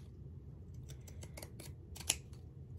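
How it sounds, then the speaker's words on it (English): Pinking shears snip through fabric for a pot holder in a quick series of soft, crisp cuts, close and quiet, ending with one sharper click. "For right now, I'm just going to use some pinking shears."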